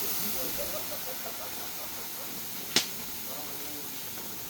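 A large batch of adobo boils in a pan, giving a steady, even steamy hiss throughout with one sharp pop or crackle partway through; faint murmuring voices may sit low under the sizzle.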